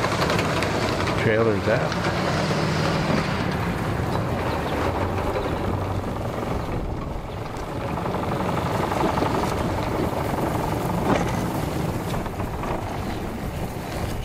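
A full-camo bass boat's engine churns and rumbles steadily, turning over and idling near the listener while people talk over it.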